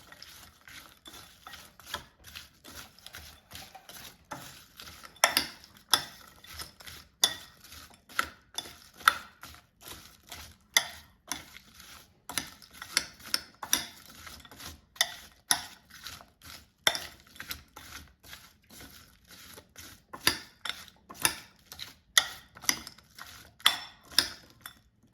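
Apple, raisin and walnut salad is stirred in a bowl, a long run of irregular clicking, scraping strokes close up as a spoon works through the crunchy pieces, with no voices.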